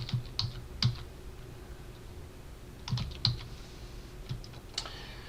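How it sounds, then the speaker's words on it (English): Nonsense text is typed on a computer keyboard in short irregular bursts of crisp, close key clicks, separated by pauses of quiet room tone. "I'll just type in some nonsense."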